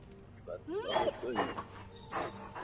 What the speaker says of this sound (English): I'll pet this dog a couple more times